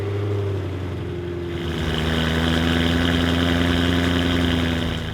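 A BMW E90 M3 V8 idles high after a cold start, giving a steady, close engine drone with a low rumble and tonal whine that shifts partway through and then holds evenly, with no voices.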